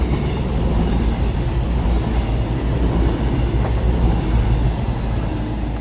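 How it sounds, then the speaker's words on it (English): A Great Western Railway train passes through Filton Abbey Wood station with a loud, close, continuous rumble and rolling roar. The sound holds steady throughout with no speech. "hang on, we've got a train passing through"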